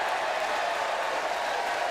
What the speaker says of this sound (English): Sarcastic cheer from the crowd here at Florida State.